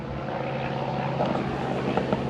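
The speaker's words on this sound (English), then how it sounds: "airplanes fly directly over our house" A propeller airplane passes over a hilltop house between an Air Force base and a local airport, a steady loud engine drone filling the whole stretch.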